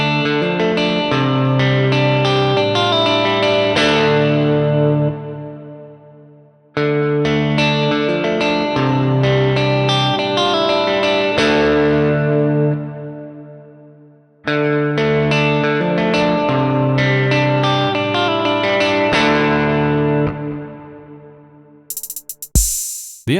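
Electric guitar plugged straight into a budget Behringer audio interface, played as sustained strummed chords in three long phrases split by brief gaps, loud and dry with a slightly dull tone, and a short burst of noise at the very end.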